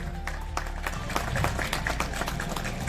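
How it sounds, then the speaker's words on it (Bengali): Loud applause for a school quiz team at a Bengali quiz grand final, dense and steady handclapping that carries on for about three seconds without a break, close by and filling the room. "জোরে হাততালি ওদের জন্য।"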